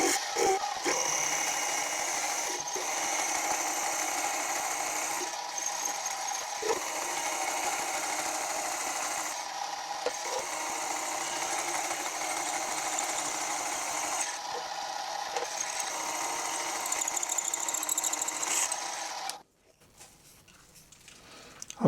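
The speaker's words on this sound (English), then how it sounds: "Again, my nice cobalt drill should have no problem going through cast iron." A cobalt drill bores through a cast iron rear tool post base casting, a steady high whirring grind with brief dips and clicks, running for about twenty seconds before stopping abruptly into near silence.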